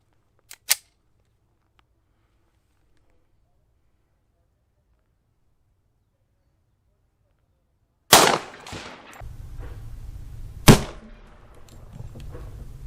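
Two sharp gunshots from a Beretta 92 pistol firing .40 S&W Federal HST rounds, one sudden crack near the start and another after a long silence, followed by an echoing blast and a lingering rumble of outdoor noise.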